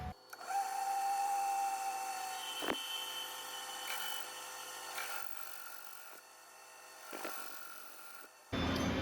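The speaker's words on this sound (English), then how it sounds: "We're gonna bore this back side out so the thread will pass all the way through" A machine tool bores out stainless steel threaded bungs with a steady whine that sometimes rises into a thin squeal, broken by a few clunks as the cut changes.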